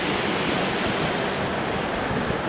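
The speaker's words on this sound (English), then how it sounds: "This is an awesome year-round creek. Must come see this one. Class 5 rapids." A year-round creek with class 5 rapids gives off a loud, unbroken roar of rushing whitewater. The sound is close and constant, and no voices are heard.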